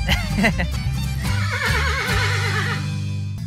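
A horse whinnies loudly and repeatedly up close, its wavering neighs rising and falling, with hoof clip-clops and a voice briefly underneath.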